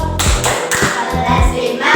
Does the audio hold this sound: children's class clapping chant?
yes